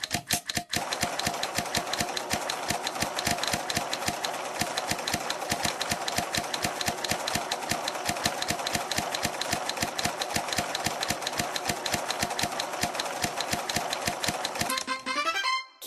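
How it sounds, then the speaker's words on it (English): A sewing machine stitching a jacket in a fashion dress-up mobile game, a rapid even mechanical clatter of needle strokes running steadily and then stopping with a short chime at the end. "Let's sew the jacket."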